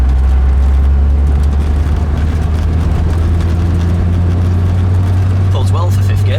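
V8-powered car accelerating hard in fifth gear, a loud heavy low-pitched engine drone that holds steady from inside the cabin, with people talking over it toward the end.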